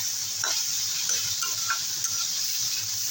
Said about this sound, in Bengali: শাক ভাজা হয়ে গেছে নামিয়ে দেবো